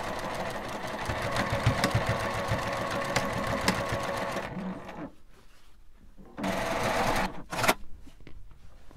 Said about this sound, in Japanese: 上端にも端ミシンをかけます。